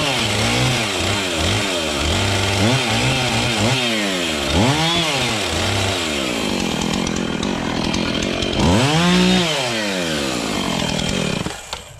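A power tool cuts and grinds wood at a 45-degree angle on a farm while preparing a combine header for harvest, giving a loud, steady engine-like whine with repeated rising and falling pitch sweeps, close by and alone.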